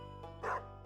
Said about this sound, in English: Bark. Bark. Bark. Bark. Bark. Bark.